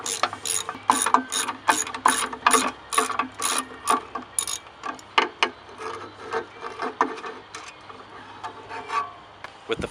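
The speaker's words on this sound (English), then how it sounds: "Next we're going to use a T20 bit to remove these 4 Torx bolts." A ratchet fitted with a T20 bit turns out four Torx bolts on a Teraflex Alpha HD hinged spare tire carrier, giving quick, close bursts of clicking interrupted by brief pauses.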